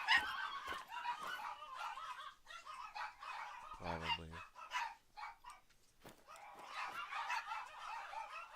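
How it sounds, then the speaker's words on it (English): A dog barks in the background in a quick series of sharp, moderately distant barks mixed with other animal sounds, while a person speaks briefly. "Ignore that, that's just my dog barking."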